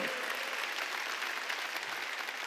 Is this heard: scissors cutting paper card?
no